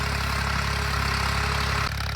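A tractor engine runs steadily while ploughing a field, a loud, constant low drone with a faint tonal hum and a brief dip near the end, with no talking.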